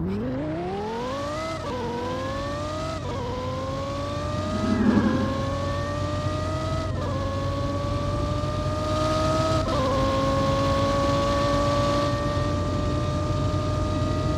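A supercharged Lamborghini Gallardo in a Roblox racing game revs repeatedly, its whining engine note rising and stepping up through several gear shifts, loud and steady with a brief burst partway through.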